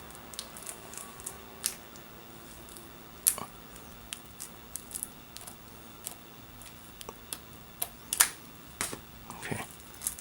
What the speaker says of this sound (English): Now let's remove the shrink wrap.